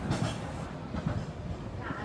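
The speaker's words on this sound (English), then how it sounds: "There goes the tram." The Victoria Peak tram in Hong Kong passes nearby with a low rumble and rhythmic clatter over the track, moderately loud against outdoor ambience, while a person talks over it.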